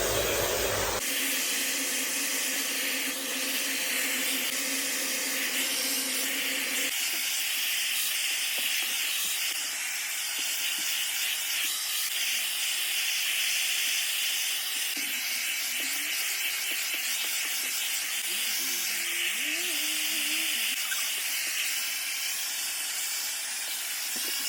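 A hair dryer with a diffuser attachment, set to middle heat and level 2 airflow, blows as a strong continuous hiss after a brief start, steady and close for the whole stretch with no voices.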